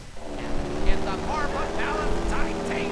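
A propeller airplane drones steadily in GTA San Andreas, a constant loud engine hum with a wavering higher whine, close and continuous, while someone talks over it.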